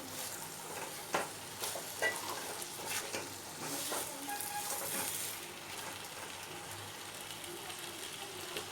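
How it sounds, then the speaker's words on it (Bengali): Fried taro pieces are stirred into sizzling spices in a pan for a kochur dom curry, quiet frying crackle with a few scraping stirs of a spoon, no talking. "এগুলো এবার মশলার মধ্যে একটু নাড়াচাড়া করে নেব"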